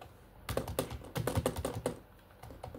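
Quick clusters of keystrokes clatter on a computer keyboard during a Fortnite match, close and crisp, with a short pause between bursts and no talking.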